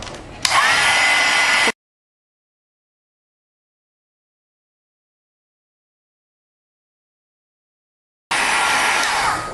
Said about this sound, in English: I apologize for making you listen to this heat tool, but there's no other way